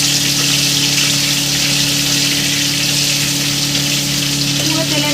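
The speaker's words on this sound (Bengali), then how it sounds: "অল্প একটু মাছের তেল দিয়ে দেবো, দিয়ে আমি ভেজে ভালো করে আপনাদেরকে দেখাবো" Fish frying in a little oil while a fish curry is cooked, a loud, continuous close sizzle and hiss with a steady low hum underneath.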